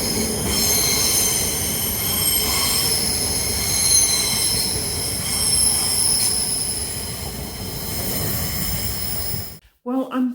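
A train rumbles past on the rails with steady wheel noise and high metallic squealing, loud throughout before cutting off abruptly near the end.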